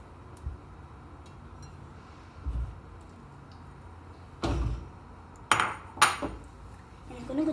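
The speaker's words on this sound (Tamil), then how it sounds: "நம்ம இந்த 2 டொமேட்டோ போட்டுக்கலாம்." Two tomatoes go into a pot of water with cashews while paneer butter masala is being made, giving a few scattered metallic clinks and knocks against the pot, spaced out and then clustered near the end.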